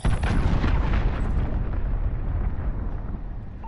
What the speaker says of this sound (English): Allied cruise missile away.